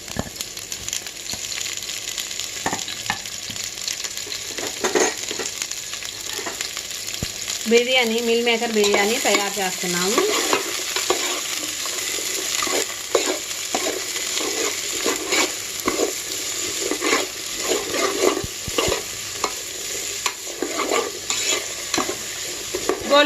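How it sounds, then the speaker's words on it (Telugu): Sliced big onions fry in oil and ghee for a meal maker biryani, a steady close sizzle with repeated stirring and scraping, under someone speaking briefly. "పెద్దల్లిపాయ ముక్కలు దోరగా ఎర్రగా వేయించుకోవాలి."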